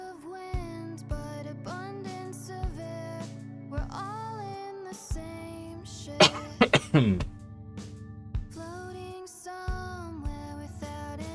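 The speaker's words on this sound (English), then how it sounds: "Apologies for the cough." A person coughs several times in a quick, harsh burst near the microphone, set amid an ongoing electronic tune with repeating tones and a low pulsing bass line.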